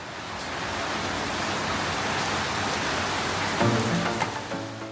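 Rain falls in Jamaica as a steady, broad wash of hiss, with a faint tonal hum joining near the end.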